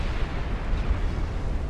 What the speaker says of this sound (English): So sadly, I've suffered a flash fire,